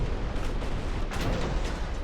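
Heavy 8-inch naval guns fire in the warship game Ultimate Admiral: Dreadnoughts, deep rumbling booms rolling over a dense low battle roar, with a sharper blast near the middle.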